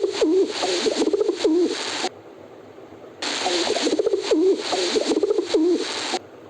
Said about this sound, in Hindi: कबूतर की गुटरगू।